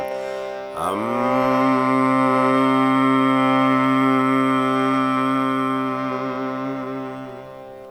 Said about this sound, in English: Or I could hum.